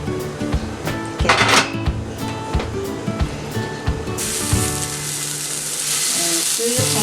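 Meatballs sear in a hot pan, a loud, close sizzle that swells into a steady hiss midway, with scattered clacks and knocks of utensils against the pan.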